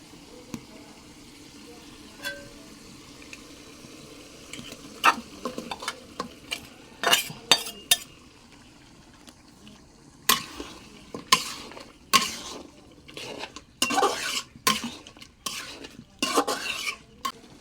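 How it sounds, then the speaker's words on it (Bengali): Beef tail meat being stirred into a pan of ginger, garlic and cumin spice paste, with intermittent scraping and clattering spoon strokes over a low sizzle, growing busier toward the end, close by. "এখন আমি লেজের মাংসটা দিয়ে দিমু।"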